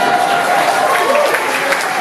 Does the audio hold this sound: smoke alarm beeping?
no